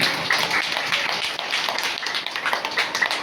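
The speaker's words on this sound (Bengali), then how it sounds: "এই মায়ের জন্য জোরে সোরে একটা করতালি" An audience at a testimony event gives a mother a round of applause, with steady dense clapping from many hands throughout.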